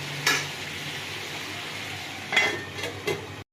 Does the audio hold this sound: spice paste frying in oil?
yes